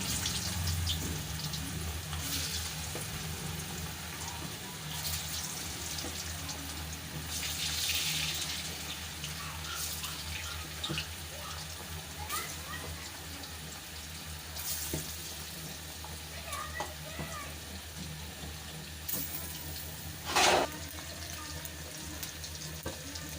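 Marinated fish frying in fully heated oil, a faint, steady sizzle and bubbling hiss that runs throughout, with a few soft clinks and a brief louder clatter near the end.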